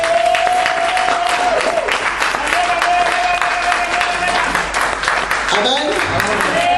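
A church congregation applauds, a steady, dense wash of clapping that lasts the whole stretch while a voice carries on over it.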